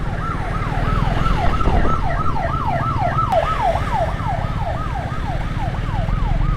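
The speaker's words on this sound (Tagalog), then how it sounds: "may ambulansya." A wailing ambulance siren sweeps up and down repeatedly over steady road and engine rumble, loud and fairly close, with no voices.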